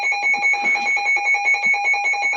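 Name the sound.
alarm going off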